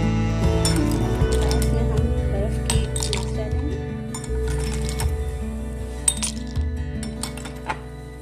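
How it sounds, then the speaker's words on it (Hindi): Ice cubes dropped into a glass of lassi clink and rattle close by in a few short bright bursts, heard alone without talking. "अब इसमें हम बर्फ़ डालेंगे।"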